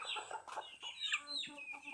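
Chickens on a small village chicken farm cluck and squawk in close, overlapping bursts for about two seconds, with a faint voice underneath.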